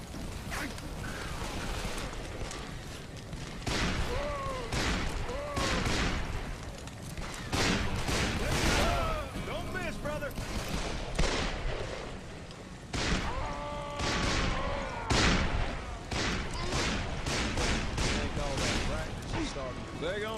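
Repeated gunfire in Call of Juarez: Bound in Blood during a chase, with dense bursts of shots and bangs over galloping action and music, loud throughout as voices shout over it.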